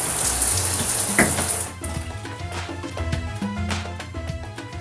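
Tap water runs steadily while someone washes, a broad hissing flow that is loud at first and then settles into a softer splashing stream with small clatters, with no voices.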